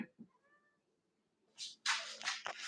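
Cats meowing: a couple of faint, thin meows at first, then louder, longer, rising meows close by near the end.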